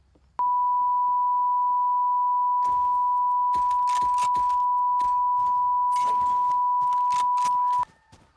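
Steady electronic beep from a Pavlov VR shooter, sounding whenever a player's crosshair stays badly placed for too long; one loud, unbroken tone holds for about seven seconds while brief bursts of game noise and movement sound through it.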